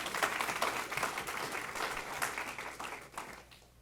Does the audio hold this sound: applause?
yes